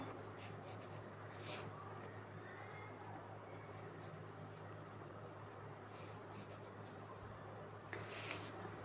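Pen or pencil scratching steadily across paper while a math solution is worked out, a soft continuous rasp with small bursts of strokes over a low steady hum, no talking.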